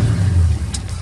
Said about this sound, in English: The quick-thinking jeep driver immediately started the car and drove away from danger.